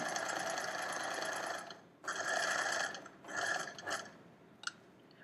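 A sewing machine stitches the second side of a buttonhole on a skirt in steady, close, buzzing runs, pausing twice before a short final burst and a click.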